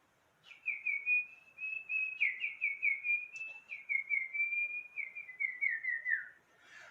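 A person whistles an imitation of a bird call: a continuous, warbling run of trilled chirps that rise and fall for about six seconds, clear and alone in a quiet room.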